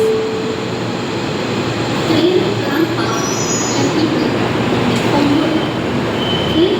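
Light-rail train rumbling through Ampang LRT station, with wheels squealing in short high whines and a steady low mechanical drone, no talking.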